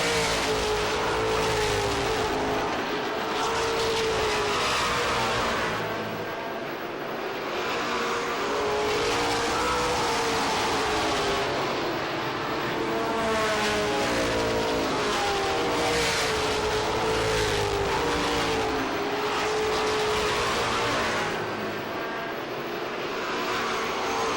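Pro stock race cars roar around Lee USA Speedway in a 100-lap feature, their engines loud and continuous, swelling and fading as the pack passes in waves.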